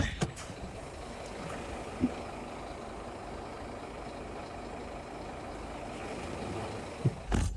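A lorry reverses into a yard with a steady, rumbling engine drone throughout, broken by a few sharp knocks near the start, in the middle and near the end.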